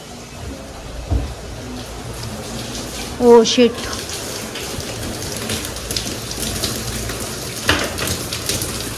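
Water from an overflowing tank splashes and patters down steadily like heavy rain onto a hard surface, with a few louder splashes. A woman's startled exclamation cuts in partway through.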